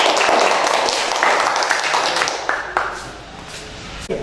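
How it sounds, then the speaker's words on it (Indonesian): A classroom audience applauds a student, a dense burst of clapping that is loudest at first, then thins into scattered claps and fades toward the end. "Tepuk tangan untuk adik."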